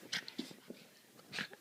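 A dog named Prince whimpers softly, unable to reach his toy under a couch, with a few faint, high whines and breathy snuffles in quick succession.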